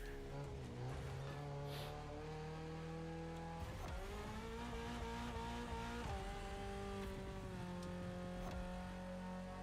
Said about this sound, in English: as soon as I hit something like fourth, it hits the rev limiter, bounces back down again, like I've actually hit the rev limiter